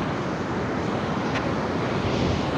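Sea waves and wind at Watu Nene beach make a steady, loud broadband roar of surf with wind buffeting the microphone, continuous throughout with no voices.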